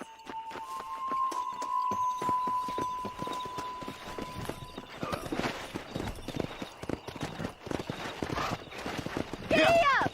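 Horses in the Red Dead Redemption video game trot and then gallop with rapid, rhythmic hoof clip-clops, rising in pace over a sustained musical tone, with a horse whinny near the end and spoken game dialogue mixed in.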